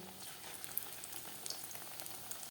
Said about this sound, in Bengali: এখন গরম গরম কটা ভেজে নিই